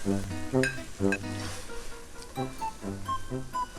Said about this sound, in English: And then we're gonna add all the vegetable.